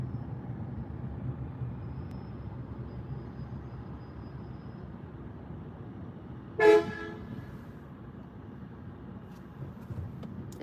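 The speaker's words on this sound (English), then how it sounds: "That honk was not at me" A single short car horn honk sounds from a moderate distance outside a moving car, cutting briefly through a low steady road rumble.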